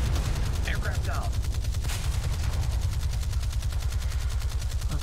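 Warship guns firing in a naval battle game, a rapid, evenly pulsed stream of shots with a low rumbling bed, loud and continuous, with a voice briefly audible underneath.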